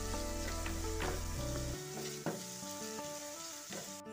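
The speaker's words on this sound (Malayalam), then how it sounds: "സവോള ഒന്ന് വാട്ടിയെടുക്കാം" Sliced onion sautéing in a pan with a little salt, a steady close sizzle with occasional soft stirring clicks and scrapes, loud and continuous with no voices.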